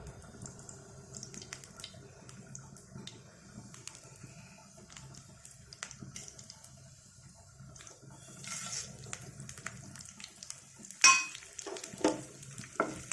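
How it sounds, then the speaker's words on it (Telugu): Spice tempering sizzles in hot oil while making a chukkakura and raw mango pickle, a steady low crackle with a few sharper pops and stirring clatters near the end, close and moderately loud. "పోపు వేసుకుందామండి."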